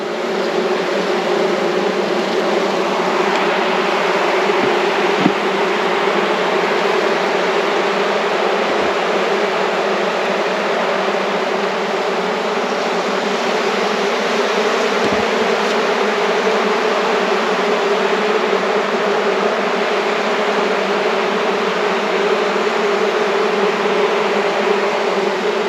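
Honeybees from a working hive buzzing around the opened box, a dense, steady, loud swarm hum lasting throughout, broken only by a few faint knocks and no voices.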